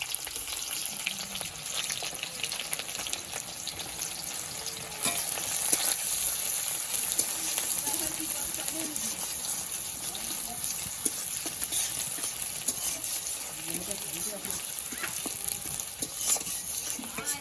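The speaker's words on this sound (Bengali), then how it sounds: "পেঁয়াজগুলো ভেজে নেবো বেরেস্তা করার জন্য।" Sliced onions fry in hot oil in a wok for biryani birista, a dense continuous sizzle that grows livelier about a third of the way through and stays steady to the end.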